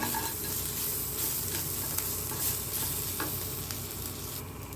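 Onion and grated ginger fry in a pan for a potato and cabbage dish, making a dense, continuous sizzle with faint stirring scrapes, close and fairly loud, with no talking.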